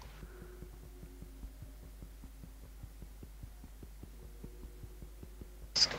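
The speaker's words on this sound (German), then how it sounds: "Es kann sein, dass das der Ventilator ist" An electric fan hums faintly into a headset microphone, giving a low steady drone with a regular throbbing pulse throughout and a brief louder rustle near the end.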